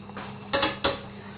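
Two quick metallic clanks of a frying pan being set down or shifted on a stove as it heats, close up over a low steady hum.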